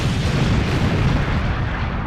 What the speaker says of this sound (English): An explosion had blown out part of the facility's northern wall.